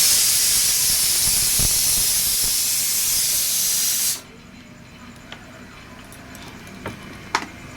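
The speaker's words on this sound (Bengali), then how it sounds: "দেখুন, এটা সিটি দিচ্ছে।" A kitchen pressure cooker lets off a loud, steady steam hiss for about four seconds, then cuts off abruptly, leaving quiet room sound with a few faint clicks.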